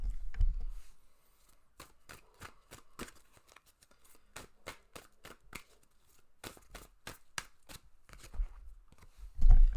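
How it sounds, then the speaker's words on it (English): Tarot cards are shuffled up close, sharp papery snaps and riffles coming in quick irregular bursts with brief pauses, plus occasional low thumps from handling near the microphone, and no speech. "I'm going to go ahead and shuffle your cards"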